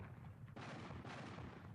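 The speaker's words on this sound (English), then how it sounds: "At that moment, there was a great sound of cannons." Cannon fire in a Treasure Island audiobook as a battle begins near a harbour: two faint, broad booming bursts in quick succession, each with a sustained rumbling tail, and no voices.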